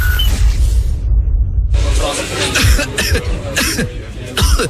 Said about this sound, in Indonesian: Ih, tutup kalau batuk tuh